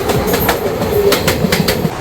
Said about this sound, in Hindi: भाई पैरेलल में ओवरटेक मार के चली गई गीता जयंती एक्सप्रेस